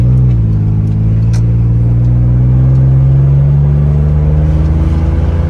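Inside a 30-year-old classic Nissan 300ZX as it drives, the engine drones loud and close, its pitch climbing gradually as the car gains speed, with steady road rumble beneath.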